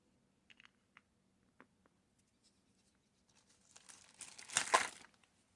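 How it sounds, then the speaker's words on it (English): Paper and plastic bags being handled while making a journal page: a few sparse soft taps early, then a louder burst of crinkling and rustling near the end, close by with no talk. "Touching the paper, moving the plastic bags"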